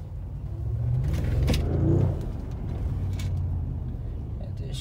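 An Audi S7 drives along with a low engine and exhaust rumble that swells briefly as it accelerates, then settles into a steady cruising drone with road noise underneath.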